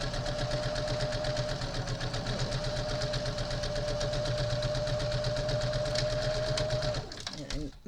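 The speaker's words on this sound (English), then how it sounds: "make sure I back stitch a little bit" A sewing machine runs in a steady, continuous whirring stitch through a fabric mask, holding close and loud for about seven seconds before it stops.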